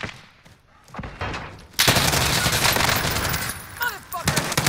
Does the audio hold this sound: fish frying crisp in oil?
no